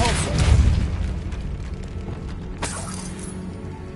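Depulso blast spell cast in Hogwarts Legacy, a booming burst at the start that decays into a rumbling, shattering tail, followed by a second sharper crack partway through.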